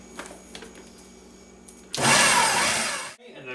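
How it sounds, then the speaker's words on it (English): A blender pureeing a candy filling roars on loudly for about a second, then cuts off abruptly, after quiet kitchen background noise and a few soft clicks. "Alright, so mix this, puree this together, and this is our filling for our candy."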